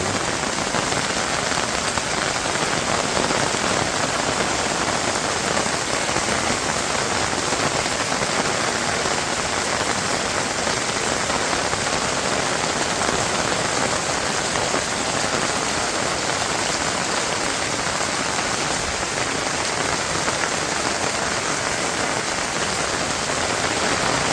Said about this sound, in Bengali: যে বৃষ্টিতে গাছ পুরা এলে পড়ে গেছে।